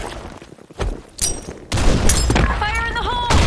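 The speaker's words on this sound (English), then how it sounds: "Grenade!" Grenade explosions and gunfire in a Broken City multiplayer shooter session: sharp broadband blasts land in bursts, with a sustained roaring detonation midway and another crack at the end, while voices chatter over the din.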